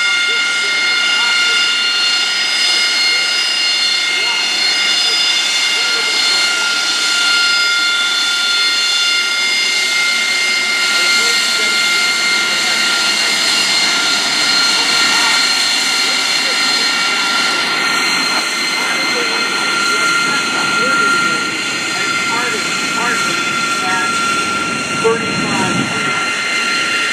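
A MiG-15 jet fighter, the VK-1F-powered younger sibling of the MiG-17, flying at the MCAS Cherry Point air show without its afterburner, gives a steady, sustained roar with broad whine across the whole stretch, while a voice talks over it.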